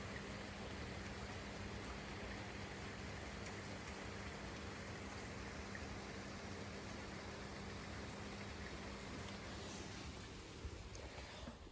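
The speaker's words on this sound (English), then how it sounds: "It's raining, guys, again, 4th or 5th time in the day" Steady rain falls outside in Oxford, a dense, even hiss of drops that holds constant throughout with no voices.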